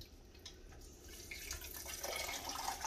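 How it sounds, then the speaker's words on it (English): Water poured from a can into a pot of tomato sauce while making ricotta meatballs with pasta, a faint, soft trickling stream that grows slightly fuller toward the end, with no talk. "another quarter of a can of water in here"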